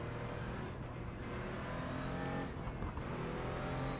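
A racing car's brakes squeal in short, thin, high-pitched bursts as it warms up, heard about three times over a steady engine drone.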